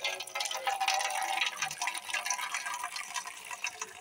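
Water running from a tap into a container while rinsing bottle gourd leaves and stems for cooking, a steady soft splashing rush that continues throughout, fairly faint and close.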